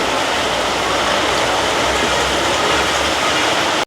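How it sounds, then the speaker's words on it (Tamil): Heavy rain pounds a tin sheet roof over a village home, a dense, steady roar of drumming that stays loud and even throughout, with no voices. "தகரத்துக்கு சும்மா மழை சத்தம் பண்ணால் சரியான சத்தமாக கேட்குது"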